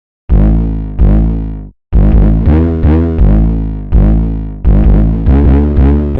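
Booming distorted 808 bass notes made from vocals, with distortion placed before the EQ, hit in a repeating pattern, each one gritty and saturated, sustaining and fading before the next.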